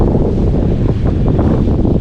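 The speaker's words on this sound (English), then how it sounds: "Wow, windy here." Loud, continuous wind buffeting the microphone outdoors on a street in Neenah, Wisconsin, a dense low roar with no pauses.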